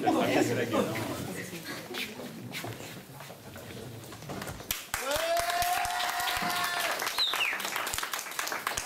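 Audience applause at a youth-leaders' cabaret show, with busy clapping and crowd chatter throughout, a squealing whistle-like tone rising midway, and voices talking over the noise.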